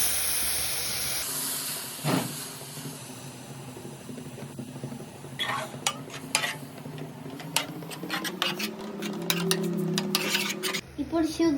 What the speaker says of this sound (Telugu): ఇప్పుడు పాలు పోసుకోవాలి.